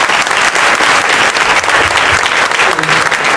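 An audience at a Swaminarayan temple cultural program applauds, sustained dense clapping from a sizeable crowd, loud and close for the full few seconds.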